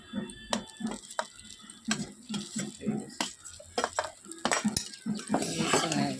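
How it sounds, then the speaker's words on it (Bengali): A metal spoon stirs cauliflower and potatoes in a pan for vegetable pulao, giving a close, irregular run of clinks, taps and scrapes against the cookware. "আবার নেড়ে নিতে হবে"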